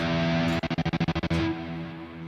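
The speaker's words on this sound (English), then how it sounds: "And then there's an auto pan at the end." A guitar effects pedal running reverb with auto pan turns a sustained, distorted guitar tone into about ten fast, even pulses that chop the sound on and off before it rings out smoothly.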